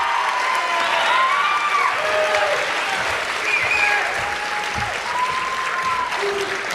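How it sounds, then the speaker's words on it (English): The audience at a Manatee High School JROTC awards ceremony breaks into steady, full applause for a cadet company, with a few scattered cheers and whistles mixed in. "Please join me in a round of applause for Alpha Company."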